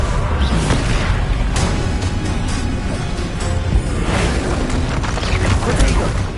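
Confringo blasting spell in the Hogwarts Legacy game: dense, continuous booming and crashing combat noise with repeated blasts and rumbles layered over one another, loud and sustained throughout.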